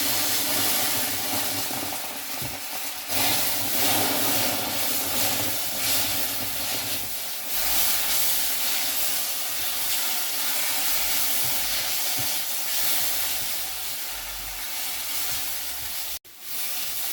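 Beef for a Kerala-style beef fry sizzles loudly in a pan as tomato paste is added, a dense continuous hiss that fills the whole stretch up close, briefly dipping near the end.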